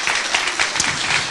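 A church congregation claps loudly and continuously during a worship service, a dense, close burst of applause lasting just over a second.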